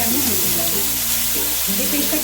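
Cumin seeds and a ground spice paste hit hot oil for a prawn dish, giving a loud, steady sizzle and crackle with soft stirring scrapes, close up and without speech.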